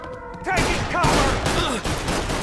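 Heavy gunfire from a 1930s-style shootout in Mafia Definitive Edition, with dense overlapping shots and bursts coming close and loud in a sustained barrage, while a brief voice calls out at the start.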